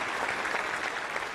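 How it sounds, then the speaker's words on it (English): Audience applause at the NASA Artemis II crew announcement event, a dense, even wash of clapping from a large indoor crowd, steady and moderately loud throughout. "Yeah, you can clap for that."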